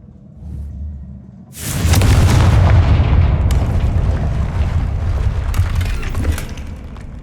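A Confringo explosive spell blast in the Hogwarts Legacy video game erupts suddenly after a quiet low hum, a loud booming burst followed by several seconds of rumbling, crackling debris that slowly tapers off.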